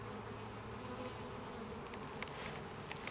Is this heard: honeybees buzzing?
yes